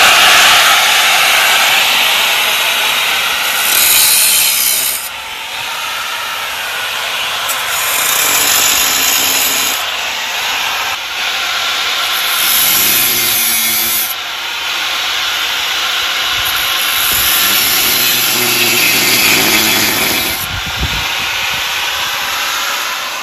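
A loud, continuous power-tool whine grinding small notches into a metal water tank, rising and dipping in bursts with brief pauses, close and harsh.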